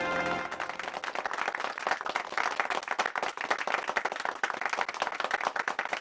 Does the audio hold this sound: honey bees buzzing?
no